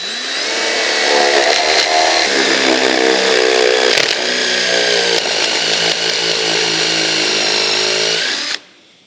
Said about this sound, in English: Drilling a little slower, so let me take my time a little bit here.